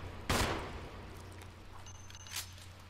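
Two sharp gunshots aimed at a shark in Resident Evil, a loud crack at the start and a fainter one near the end over a low hum, no talk.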